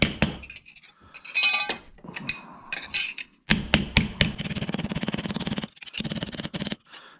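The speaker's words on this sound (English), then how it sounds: "take it over here on my mini anvil, kind of flatten it out a little bit." A piece of tin is hammered flat on a mini anvil, giving sharp metallic clanks in irregular bursts and then a fast, steady run of close, ringing blows.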